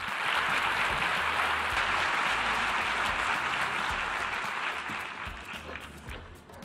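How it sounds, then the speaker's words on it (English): A large audience at a UN General Assembly event gives a dense, continuous round of applause that slowly fades, a soft roar of many hands heard from a distance. "Join me in giving our next speaker a wonderful UN General Assembly round of applause"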